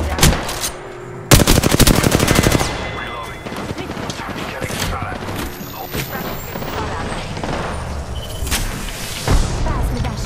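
A grenade explodes in a chaotic Apex Legends firefight, with a loud broadband blast around the second mark among rapid gunfire bursts, clattering impacts and further booms, with voices talking over the action.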